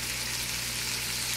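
Prosciutto crisping in a hot pan, with a dense, steady sizzle and fine crackling heard close up without pause, and no voices over it.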